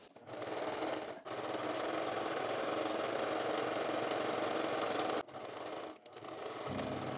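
Sewing machine stitching a seam around a makeup bag, a steady, close mechanical whir in long runs broken by short stops.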